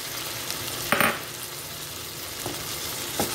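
Shrimp fry with spice paste in a pan, keeping up a steady sizzle while a utensil stirs and scrapes, with a few sharp clinks against the pan.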